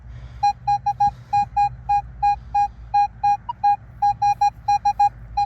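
Metal detector sounding over a deep buried silver coin in a medieval market field, a series of repeated short high-pitched beeps in quick irregular bursts, close and clear over faint outdoor background.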